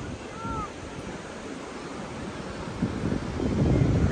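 Sea waves roll in at Nandgaon beach, a steady washing roar with wind that swells louder toward the end, and faint voices in the background.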